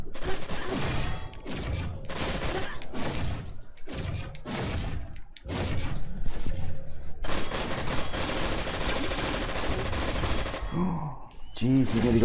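Rifle fire in the video game The Burning Descent comes in repeated rapid bursts with short gaps between them, loud and close, ending in quieter clatter.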